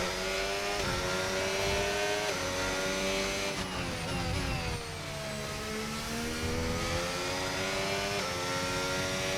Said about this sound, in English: I can kind of hear the engine grinding.